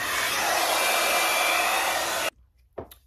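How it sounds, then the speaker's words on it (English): A blow dryer brush drying a 28-inch loose deep wave wig gives a loud, steady rushing whoosh that stops abruptly after about two seconds, followed by a brief soft knock. "I'm gonna blow dry it with this blow dryer brush"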